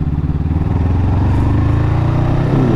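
A Honda CBR 500R motorcycle runs continuously at close range, a loud, steady engine drone with a slight shift in pitch as it rides along.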